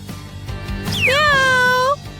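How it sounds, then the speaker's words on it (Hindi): A cat lets out one loud, close, drawn-out meow that rises and then slowly falls, preceded by a moment of low background sound. "ये एक बिल्ली है।"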